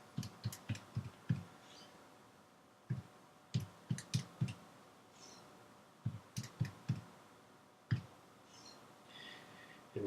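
Quick bursts of taps on a calculator keypad during a math lesson's arithmetic, clicking in short clustered runs with pauses between them, close and fairly quiet with no talk.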